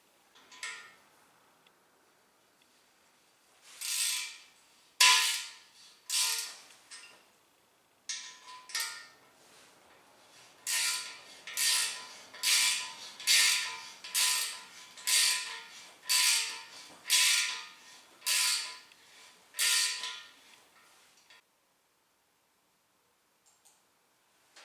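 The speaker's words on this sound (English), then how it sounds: "It's a tapered tap, and I'm just going to use a ratchet and a socket" A ratchet and socket turn a tapered 1/4 inch pipe plug tap into an engine block, giving a long series of rhythmic clicking bursts, close and fairly quiet, with pauses between strokes and no talk.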